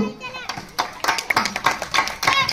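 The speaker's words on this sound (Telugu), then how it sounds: "అందరూ ఒకసారి క్లాప్స్." Audience applause at a Ganesh festival gift distribution and laddu auction, a burst of clapping of moderate loudness mixed with children's voices and crowd chatter.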